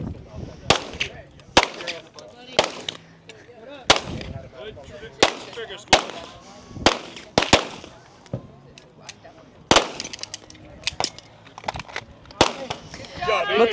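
Pistol shots ring out at a shooting range firing line during an elite women's competition stage, a dozen or so sharp, loud reports at irregular intervals about a second apart, with an announcer talking between and over them.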